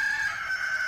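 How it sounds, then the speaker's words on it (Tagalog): Rooster crowing at dawn around 5:41 in the morning in the Philippines, one sustained loud crow with a slight echo, heard alone with no talk. "Tumilaok ang manok!"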